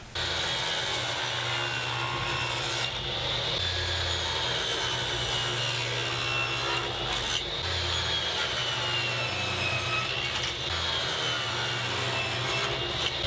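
A saw cuts mitered wood trim pieces for a drill press table with a built-in router table, giving a continuous, loud, even rasping buzz that runs the whole time with no speech.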